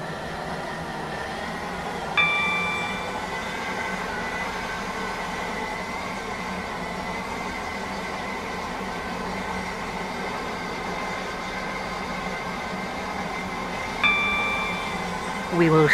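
A Class 168 train in the Roblox game Stepford Connect runs steadily, with a continuous engine and rolling drone and two brief chime tones, one early and one late.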